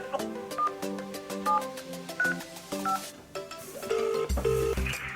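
Telephone keypad tones on a hospital phone line, a run of short steady beeps at uneven intervals over hold music.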